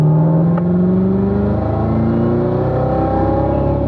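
A race car accelerates on the Spring Mountain track, its engine note climbing steadily in a loud, continuous whine and roar heard up close, with no talk.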